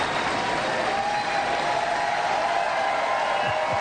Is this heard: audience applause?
yes